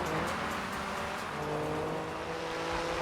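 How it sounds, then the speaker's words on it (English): A damaged rally car in the Dakar 2 PS2 game drones at a steady, strained engine pitch without climbing, a continuous loud motor hum with faint tyre noise and no talking. "The car is just struggling to get up to any sort of, like,"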